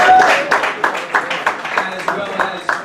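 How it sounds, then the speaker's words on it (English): Applause at a men's soccer banquet: a room of people clapping in uneven bursts, fairly close and loud, with a voice speaking over the clapping. "let's round of applause for Kadeem"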